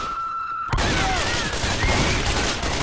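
Rapid gunfire erupts in Left 4 Dead 2 as players shoot the Witch, a dense loud burst of shots that starts abruptly after a quiet moment and keeps rattling for a couple of seconds.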